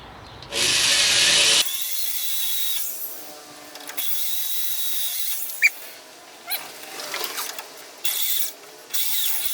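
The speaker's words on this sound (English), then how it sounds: "I need to drill new holes in this." Power drill boring new holes, with a loud whine that starts shortly after the beginning and stops within about a second, then a series of quieter on-and-off mechanical bursts, clicks and a sharp tick, all close.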